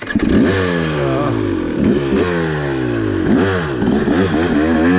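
A 2023 KTM 300XC enduro two-stroke motorcycle climbing over rocks at Peach Valley; loud, close engine revs repeatedly surge and dip in pitch, with rattling clatter as the bike works over the terrain.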